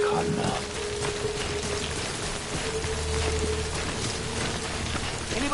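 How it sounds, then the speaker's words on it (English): Steady rain falls continuously in the video game Death Stranding Director's Cut, a loud, even wash of drops heard alone throughout, with a faint low hum underneath. "Good thing it was raining."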